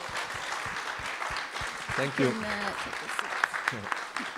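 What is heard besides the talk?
audience applause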